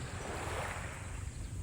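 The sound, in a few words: sea waves at Canyon Cove, Nasugbu, Batangas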